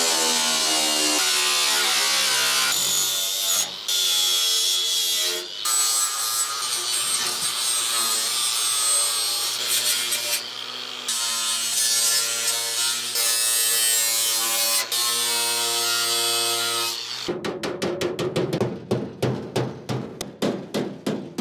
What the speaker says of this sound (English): So we'll take the grinder to that.